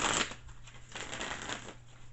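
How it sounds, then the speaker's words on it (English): Tarot cards are shuffled by hand at close range, a quick papery riffle followed by soft irregular slides and flicks, faint and without any speech over it. "I just totally messed up that shuffle"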